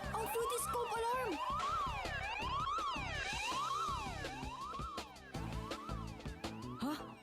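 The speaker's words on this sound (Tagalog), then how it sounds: "Ang Fruity Scope Alarm!" A cartoon Fruity Scope alarm blares, a loud rising and falling siren-like wail repeating in quick sweeps over music, with a voice speaking under it.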